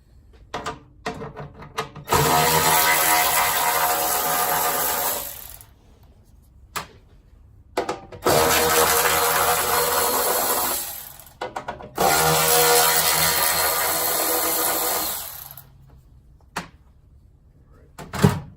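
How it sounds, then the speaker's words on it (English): Wrench and socket work on the tin shrouding of a Kohler KT17 engine during a teardown, long bursts of rapid ratcheting and rasping separated by quiet gaps and small metallic clinks. "But for right now, I'm just still wrenching on this tin work."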